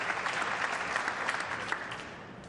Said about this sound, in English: Now clapping every shot here.